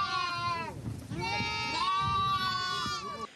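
Sheep bleat on a sheep farm in Ukraine's Rivne region, a flock of about 500 animals: several loud, quavering bleats overlap and follow one another closely throughout, near and clear.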